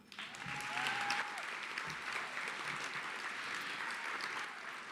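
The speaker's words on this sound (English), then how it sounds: "Round of applause." A round of applause rises from the room at a business ethics awards event, dense clapping from many hands that swells quickly and then holds steady at moderate loudness.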